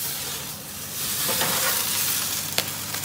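Sultan kebab pastry, baked crisp at 220 degrees, crackles and sizzles steadily up close, with one sharp crack near the end and no talk.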